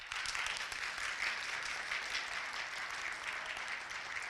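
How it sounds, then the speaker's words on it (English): A university audience at a TEDx event claps as hard as it can, a thick, even wash of applause that holds steady from start to finish at a moderate distance. "You clap as hard as you can."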